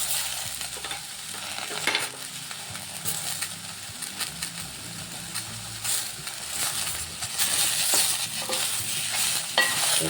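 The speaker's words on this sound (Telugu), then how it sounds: "దీంట్లోనే మొత్తం ఫ్రై చేసుకోవాలండి." Tomatoes, mint and coriander fry in a pan for coconut chutney, giving a steady close crackling sizzle with stirring scrapes throughout and no talking.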